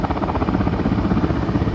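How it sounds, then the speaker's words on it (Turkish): A Turkish military firefighting helicopter working a wildfire near Manavgat throbs steadily with loud, dense rotor chop and broadband engine roar, continuous and close, with no voices heard. "İşte askeri helikopterimiz burada e, su aldı ve tekrar götürüp yangına bırakacak."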